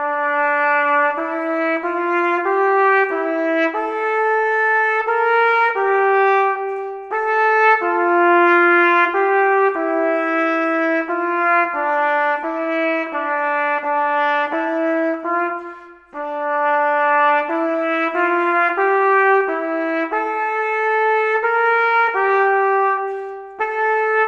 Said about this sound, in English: Now, I'm going to demonstrate that on the trumpet first of all,